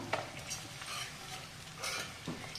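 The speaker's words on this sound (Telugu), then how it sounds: "ఇట్లా వేయించడం వల్ల కాస్త ఈ నూనె దాంట్లోకి పోతుంది" Eggs frying in hot oil in a pan, a steady close crackling sizzle with bursts of spattering and faint stirring through the short stretch.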